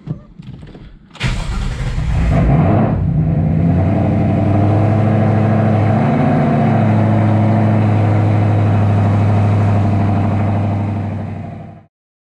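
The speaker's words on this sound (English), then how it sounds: "We're going to go ahead and turn on the car, see what kind of codes we get." A Ford Mustang GT's engine cranks and catches after a brief click, flares in a loud rev, then settles into a steady, close, rumbling idle for several seconds before cutting out.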